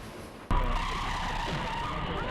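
A car skids hard with screeching tires in a staged accident, the loud squeal bursting in abruptly and holding steady for about two seconds.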